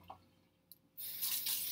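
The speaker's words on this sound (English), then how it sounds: "Just give them a quick rinse." Tap water running over a fork and knife in a kitchen sink, a few faint drips and clinks, then the faucet gushes on with a steady splashing rush for the last moments.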